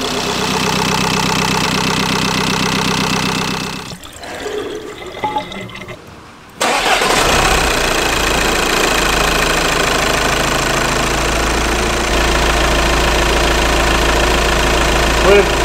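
Car engine, likely a VW TDI or TFSI, loud and steady after a brief quiet dip, with a low rumbling idle holding through the rest of the clip; speech can be heard around it.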